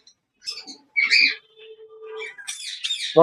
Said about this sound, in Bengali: এটা মেল পাখি ভাই গলা মালা আছে